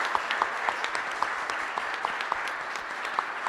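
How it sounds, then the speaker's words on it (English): Steady applause from an audience at an exhibition opening reception, a dense, even wash of clapping with occasional sharper individual claps, moderately loud and continuous throughout. "Let's give a round of applause to Marty, too."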